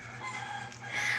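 A rooster crows in the Philippines, a moderately loud call rising toward the end, over a low background hum with no speech.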